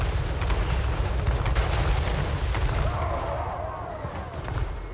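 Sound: explosions in the video game Total War Warhammer 3

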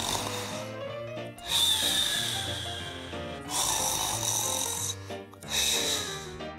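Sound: man snoring

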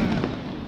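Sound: Diwali firecracker exploding

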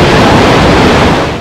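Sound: roar of Niagara Falls from Maid of the Mist boat

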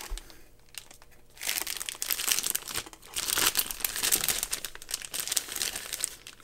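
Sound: crinkling packaging while unboxing an EK water block

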